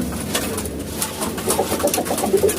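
Pigeons coo close by at feeding time, a soft run of repeated rolling coos over faint rustling and fluttering, with no one speaking.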